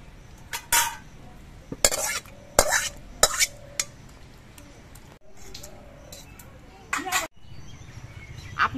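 Chana dal, pumpkin and potato curry is ladled from the cooking pan into a serving bowl, with close, intermittent clinks and scrapes of the spoon against the metal between quieter stretches.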